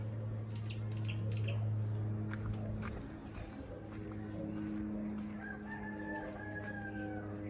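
A rooster crows repeatedly in a rural African village while other birds chirp and tweet around it, over a steady low hum in the background, moderately distant.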